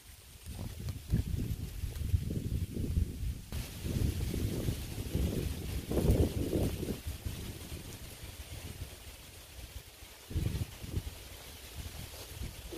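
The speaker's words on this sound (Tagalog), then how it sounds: "Grabe, lakas ng hangin, mga kapimit." Strong gusty wind buffets the microphone outdoors in the rural countryside, a loud rumbling roar that surges and eases in waves throughout, with no voices heard.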